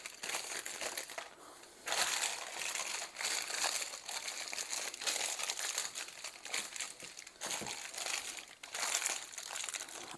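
Parchment paper crumpled into small balls by hand in a home kitchen, a loud, close, continuous crinkling with brief pauses between squeezes and no talking.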